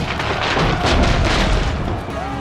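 Booming cannon fire during a siege battle in Assassin's Creed Brotherhood, with loud rumbling blasts and a sustained roar rolling over one another across the span.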